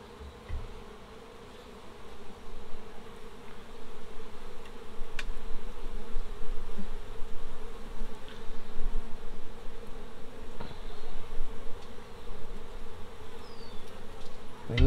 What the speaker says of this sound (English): you can tell that just the sheer number of bees